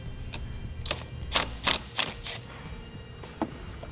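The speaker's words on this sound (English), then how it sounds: "Now we'll take a 12 millimeter socket and remove this nut." Ratcheting 12 mm socket loosening the nut on the positive battery terminal of a 2017 Subaru WRX, a few short sharp metallic clicks in quick bursts, close and fairly clear over a quiet background.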